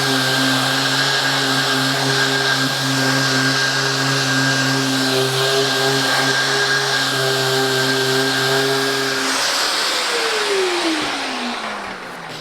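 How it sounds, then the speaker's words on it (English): A power sander runs loud and steady, droning with a strong hum as it sands layout lines off a workshop wall, then winds down near the end, with no talking. "we'll get the sander on and we'll just sand off these various lines that we put on here"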